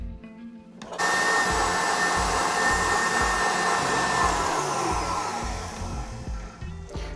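An electric hand mixer switches on and whirs steadily at high speed, whipping eggs and sugar into foam for a carrot cake, a loud, even whine that eases slightly toward the end before stopping.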